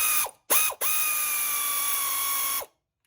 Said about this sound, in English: So I've got this air ratchet. We'll see if I can break it loose with that.